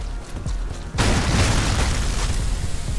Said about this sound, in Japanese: あ、本当に爆発系なんだ。